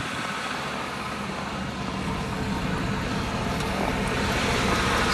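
The engine of a 2002 Cadillac Escalade AWD, just after a cold start, runs as a steady low rumble with broadband hiss. It holds even throughout and swells slightly toward the end, with no talking.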